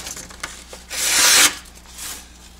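A copper kitchen knife pushing through food in one firm stroke, a short, loud scraping rasp lasting about half a second, with softer scrapes before and after.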